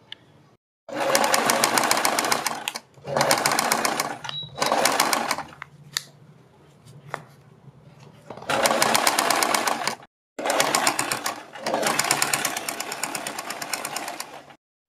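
Sewing machine stitching a design strip onto a garment neckline, running in several close bursts of a few seconds each with short pauses between.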